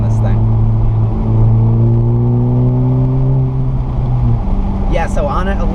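Turbocharged 1.5-liter four-cylinder engine of a 2018 Honda Civic Si revving, a steady loud drone whose pitch climbs then drops off, with a faint turbo whoosh and brief chirps near the end.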